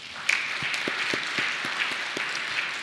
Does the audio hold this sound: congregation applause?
yes